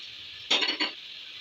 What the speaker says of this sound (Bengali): এখন আমি ক্যাপসিকাম দিয়ে দিচ্ছি